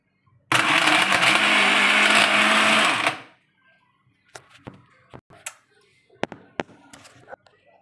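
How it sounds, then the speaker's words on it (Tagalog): A blender roars loudly for a few seconds mixing a sauce, then stops, leaving scattered clatters and knocks of handling nearby. "kailangan i-blender natin siya"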